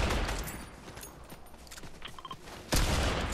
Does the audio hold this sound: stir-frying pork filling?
no